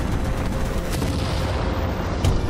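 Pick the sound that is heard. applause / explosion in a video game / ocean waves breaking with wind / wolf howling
explosion in a video game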